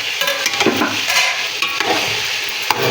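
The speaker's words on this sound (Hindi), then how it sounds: "अब इसके अंदर चिकन ऐड करेंगे और इसको यहाँ फ्राई करेंगे, गोल्डन फ्राई कर लेंगे।" Chicken frying golden in a pan for haleem, a loud, close, steady sizzle with spatter crackles and brief stirring scrapes, no voices.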